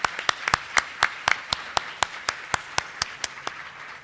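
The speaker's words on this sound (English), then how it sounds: "So let's give them all a round of applause." At a 2008 design gala, a sparse, slow clapping of a few hands rings out in distinct, evenly spaced claps, crisp and close, for the bronze sponsors.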